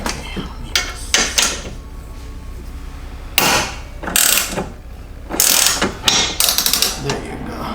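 Ratchet loosening a strut tower bar bolt on a Cusco quick-release bar: loud close bursts of rapid clicking, several separate runs of ratcheting with short pauses, and a voice speaking briefly in between.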